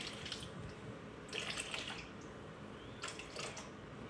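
Warm water running and trickling into a mixing bowl for sourdough bread dough, a steady close pour with brief louder splashy bursts, no talking.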